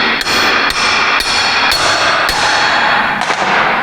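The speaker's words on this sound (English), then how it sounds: "We're going to start tapping." A hammer taps a Revolution Gear & Axle front axle shaft into place, giving about six sharp metallic strikes at uneven intervals, loud and close with no talking.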